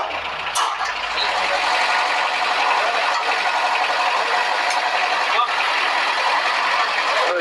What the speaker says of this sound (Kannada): ಜನರೇಟರ್ ತಿರುಗ್ತಾ ಇದೆ.